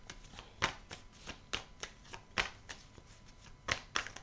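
A deck of oracle cards being shuffled by hand, close and quiet, with a run of irregular crisp riffling flicks and soft slaps of cards falling, no voices.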